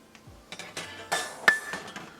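A metal dhokla pan clatters onto a kitchen countertop with several clinks and knocks, one louder ringing clang in the middle, close and without talk.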